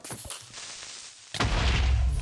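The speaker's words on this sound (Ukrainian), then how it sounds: "Вибух!" A sudden loud Minecraft explosion bursts in partway through and rumbles on as a broad, noisy roar, following a brief quieter stretch.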